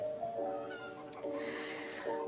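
A cat meows repeatedly at close range, each call a clear tonal wail with a slight caterwauling edge, heard alone without talk.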